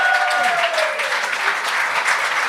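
A comedy show audience claps in a dense, steady burst of applause for the comedians, with a shout or cheer rising briefly at the start.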